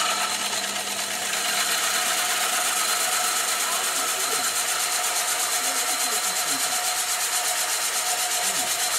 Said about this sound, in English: I'm going to cut a disc out of it using my ridiculously large hole saw.